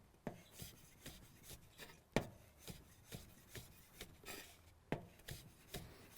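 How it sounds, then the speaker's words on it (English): A knife cuts through rolled-up sage leaves on a board while a cold cucumber salad is prepared, giving about a dozen soft, evenly spaced chops in a steady rhythm, fairly quiet and close. "Now we'll go ahead and run the knife through them."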